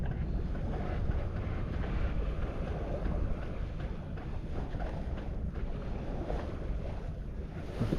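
Steady wind rushes past a sailboat on a beam reach in a light easterly of about 6 knots, a broad continuous roar with faint water wash underneath, loud and close to the microphone throughout.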